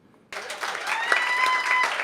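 Audience applause at a summer appreciation luncheon breaks out suddenly after a brief quiet moment, a dense, steady clapping from a room of people that holds strong to the end, with a few faint voices mixed in.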